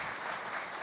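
Steady applause from a conference audience, a dense even patter of clapping heard at a moderate distance.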